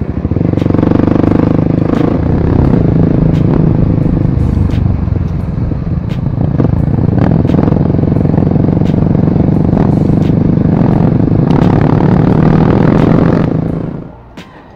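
A motorcycle engine runs close by with a loud, steady, throaty rumble that holds for several seconds and then cuts off abruptly near the end.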